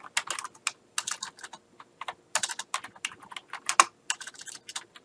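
Irregular bursts of key clicks from someone typing on a computer keyboard while making a map in Google Maps, close and clear with brief pauses between runs of keystrokes and no talking.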